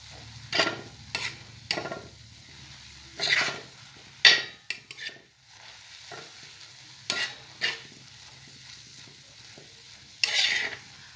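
A tandulsa vegetable dish in a pan, just topped with crushed peanuts, is stirred with a spatula: a series of close, irregular scraping strokes against the pan, with no one talking.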